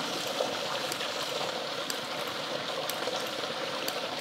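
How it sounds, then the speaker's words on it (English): A tiny 3/8 inch ram pump with a 1/2 inch drive pipe works outdoors pushing water uphill, giving a steady gurgling water rush with faint regular clicks or taps at roughly one-second intervals, nearby, with no voices. "the tiny 3/8 inch ram pump with a 1/2 inch drive pipe is able to operate and push water uphill"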